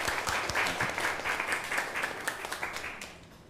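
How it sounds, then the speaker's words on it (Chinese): Congregation applauding to welcome a guest at a Sunday communion church service, a steady wash of many hands clapping that fades toward the end, with no talk over it. "我们鼓掌欢迎他鼓掌欢迎他"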